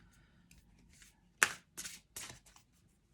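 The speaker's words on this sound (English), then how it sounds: "I'm just going to shuffle your cards" Tarot cards being shuffled by hand, a few crisp riffling bursts in quick succession, close and fairly quiet with short pauses between.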